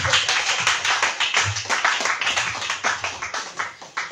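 A congregation at a night-long church prayer vigil claps in praise, giving a rapid, rhythmic run of loud, close hand claps that keeps a steady beat for several seconds.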